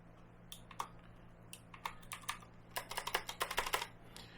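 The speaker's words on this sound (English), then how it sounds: "You can hear a little bit of the spring twinging back, but I think that's a pretty good switch." Switches on a Rapoo VPro V560 full-size backlit mechanical keyboard click in scattered, then rapid bursts of sharp keystrokes, close and fairly quiet over a low steady hum.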